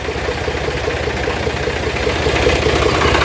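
A motorbike engine idles nearby with a loud, steady low rumble and fast regular pulsing, heard on its own with no voices.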